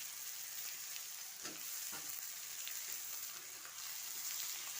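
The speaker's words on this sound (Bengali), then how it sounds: "টমেটোটা দিয়ে আবার একটু কিছুক্ষণের জন্য আমি কষিয়ে নেব মশলাগুলো সব একসঙ্গে।" Whole spices and masala sauté in a pan with chopped tomato for a chicken kosha, giving a steady, soft sizzle with faint scrapes from stirring, heard close with no talking.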